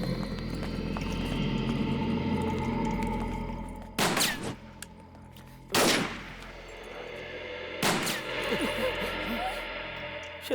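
Three sharp gunshots crack out at spaced intervals, each with a brief echoing tail, over a steady background of hooves and ambient noise, in a Hindi-dubbed action film.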